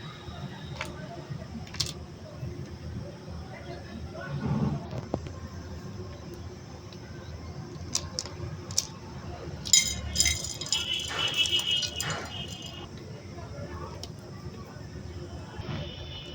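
Dry chanachur snack mix being poured and tossed together in a bowl, with light rattling, clinking and crunchy shuffling bursts, moderately close and intermittent, with faint room noise between.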